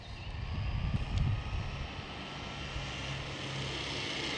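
An Arrma Senton RC truck drives back toward the operator outdoors, its electric motor giving a continuous high-pitched whine over a rumble of tires on the ground, briefly louder near the start, then steady.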